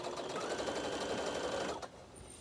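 A sewing machine backstitches fabric while making a zipper pouch, giving a close, fast, steady mechanical whir that runs for nearly two seconds and then stops abruptly, followed by a faint click.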